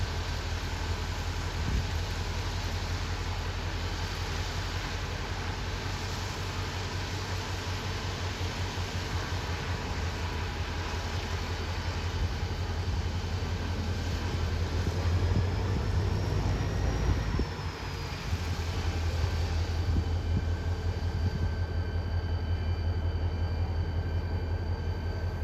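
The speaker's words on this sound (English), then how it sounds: "The majority of the ballast was brought in during a quick visit from the AFW1 work train, which is arriving here." The AFW1 work train rumbles along a rail line while dropping ballast, a steady heavy mechanical drone with a continuous hiss and a louder surge partway through, no voices.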